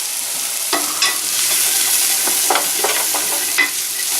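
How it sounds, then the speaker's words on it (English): Chopped onion sizzles steadily in a hot pan, with a few scraping stirs of a utensil breaking through the broad hiss. The sound is close and fairly loud, and no one talks. "Put the onion on heat, stir the fucker until it starts getting a bit softer"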